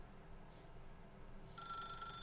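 A telephone in a video game starts ringing near the end with a bright, electronic trill that begins abruptly after a quiet, hissy stretch.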